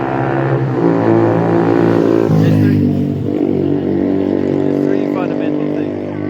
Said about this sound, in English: I've got a motorbike coming up, it's going to be a bit noisy.